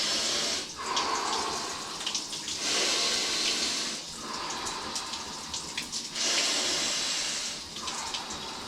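Cold shower water pouring and splashing steadily, its hiss swelling and dipping as something moves through the spray, close by with no speech.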